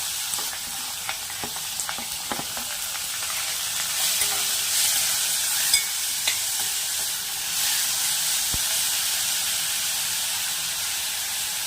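Onion, coriander and green chillies fry in a hot pan with fenugreek seeds, giving a steady loud sizzle and hiss, with a few clinks of stirring and no talk.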